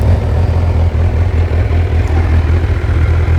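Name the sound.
motorcycle engine idling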